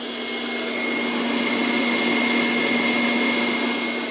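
A Sweet Maria's popcorn popper roasts coffee beans with a loud, steady fan roar and a sustained whine, close and continuous with no talk over it.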